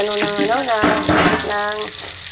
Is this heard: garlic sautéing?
yes